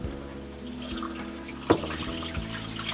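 Water sloshing and splashing as the drinking water filter housing of a Winnebago Travato RV is emptied, a close running pour with a brief sharper splash midway.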